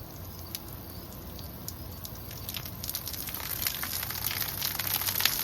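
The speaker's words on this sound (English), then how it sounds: "Let the rain commence." Steady rain pattering on a shingled roof fitted with rain deflectors, a dense, soft hiss that grows slightly louder and busier over time, with no voices.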